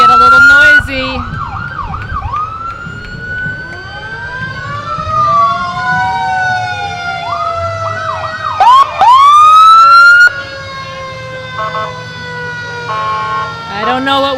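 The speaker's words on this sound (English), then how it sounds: "They've got all their sirens going." Several fire engine sirens wail and yelp, rising and falling together, loud and close, over a rumbling engine at a parade, with bursts of higher siren tones and honks.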